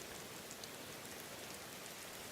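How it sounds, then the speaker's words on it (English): Steady rain falls in the Skyrim game world, a soft, even hiss of drops with no break, faint and distant, with no voices. "It is hard to hear you over the rain."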